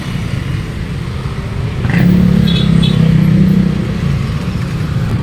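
Rush-hour street traffic rumbles steadily nearby, a passing vehicle briefly swelling louder midway amid engine drone and faint clatter, with no clear talk.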